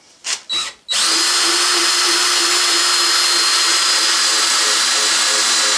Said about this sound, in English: So I'm going to use my relatively new lithium battery DeWalt here, along with the crank adapter here.